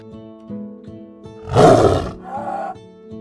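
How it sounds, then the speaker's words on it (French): Bengal tiger in the wild Himalayan foothills roars once, loud and close: a deep, rising throaty roar that swells for about half a second, then trails into a lower groan, with a steady low drone underneath. "Ici, l'avantage revient au tigre du Bengale."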